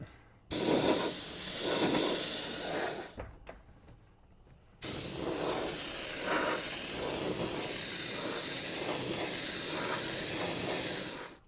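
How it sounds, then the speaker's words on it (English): Silver metallic paint sprays from a can onto a large Primal Raminator RC car body in two long, close hissing bursts separated by a short pause. "It's safe to spray the silver over the white"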